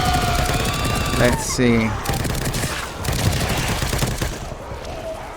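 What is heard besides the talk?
assault rifle gunfire from The Evil Within 2 video game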